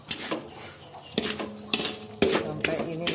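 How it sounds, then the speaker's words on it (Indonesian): A spoon stirs sugar in a pan, with repeated sharp scraping clinks of metal on metal at an uneven rhythm. The sound is close and clear, with faint kitchen background and no talking. "Kita aduk-aduk"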